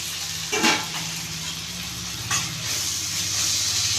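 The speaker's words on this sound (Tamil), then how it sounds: "வெங்காயம் தக்காளி நல்லா வதங்கணும்" Onions and tomatoes sauté in a covered pan, making a steady close sizzle and hiss with a couple of brief louder swells, alone with no talking.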